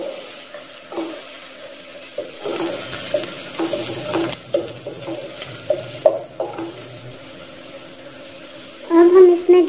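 Chopped onions cook lightly in a pan for a Sabz Turi dish, giving a low steady sizzle broken by stirring scrapes and clinks, with a louder burst of frying near the end and occasional speech over it.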